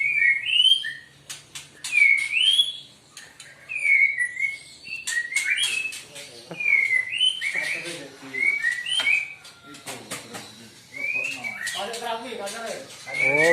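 Oriental magpie-robin (kacer) at a bird breeder's place sings a string of bright whistled phrases and chirps, close and fairly loud, with other caged songbirds and people talking underneath.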